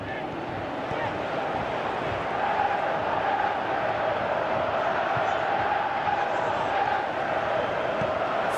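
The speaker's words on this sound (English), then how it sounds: "Crowd appreciates good football all round there." Crowd cheering and roaring in a football video game on PS3, a broad steady stadium wash that swells slightly partway through and runs continuously.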